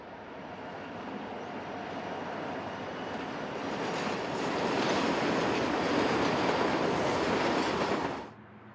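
A set of westbound Union Pacific light locomotives rumbles past at Pomona, a steady loud roar with wheel clatter that swells mid-pass and then drops off abruptly.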